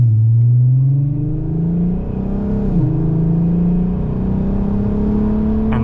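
A VW Golf R32 with a loud Scorpion exhaust, revved in sport mode, holds a deep, steady droning exhaust note. The pitch climbs gradually with a brief dip midway, close and alone.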